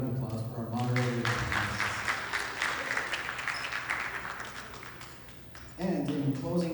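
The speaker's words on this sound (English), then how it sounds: "another round of applause for our moderator" Audience applause for a moderator at a hip-hop 50th anniversary celebration, a steady wash of clapping from a crowd lasting several seconds, with a voice speaking briefly before and again as it fades.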